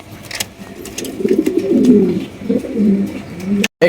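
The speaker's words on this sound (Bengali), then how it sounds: "ব্লু ম্যাক পাই পটার কবুতর পাইতেছেন দেখেন একদম বিশাল বড় সাইজ" Large blue magpie pouter pigeons coo steadily at close range, a soft, rolling, low-pitched murmur that keeps going for several seconds, with no one speaking.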